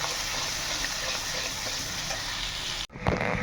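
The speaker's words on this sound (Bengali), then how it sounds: "এই মশলাটা আমি এবারে দিয়ে দেবো, দিয়ে ভালো করে এখন কষে নেব" Spice paste for stuffed potato dum fries in a pan with a dense, continuous sizzle and stirring for about three seconds, then cuts off abruptly into a brief, different, watery rush.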